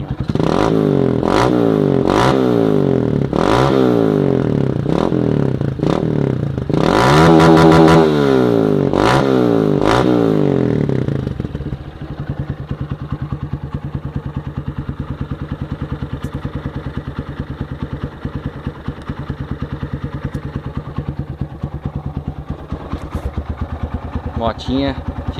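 A Honda CRF 230 motorcycle with a Fator Racing aftermarket exhaust revs hard in a run of sharp, rising throttle blips for about ten seconds, then settles into a steady, rumbling idle close by.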